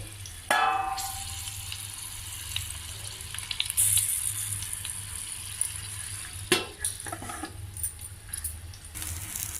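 Capsicum curry frying in oil in a pan, a steady close sizzle running throughout with a few sharper bursts and clatters of stirring.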